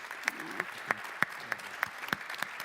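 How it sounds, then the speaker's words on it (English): At a public policy conference session, an audience gives sparse, distinct claps, individual sharp hand claps spaced out rather than a full ovation, fairly quiet. "I want you to please give them just a warm round of applause"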